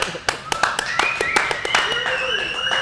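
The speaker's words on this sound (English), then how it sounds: "Clap louder." Hand claps ring out in a workshop as a small group applauds, sharp, distinct strikes in an uneven rhythm, close and fairly loud, with people talking and cheering over them.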